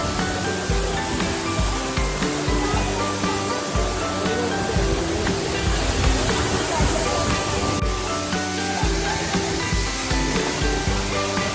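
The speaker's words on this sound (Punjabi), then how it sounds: "ਲੋ ਜੀ ਫਾਈਨਲੀ ਪਹੁੰਚ ਗਏ ਝਰਨੇ ਤੇ" A waterfall in Bir-Billing roars steadily, a dense, continuous rush of falling water that fills the scene from start to finish.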